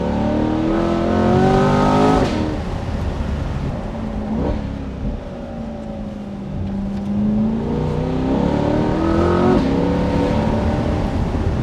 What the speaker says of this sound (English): It spins up super quick for a big engine.